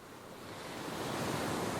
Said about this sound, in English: Close your eyes now and listen to the waves.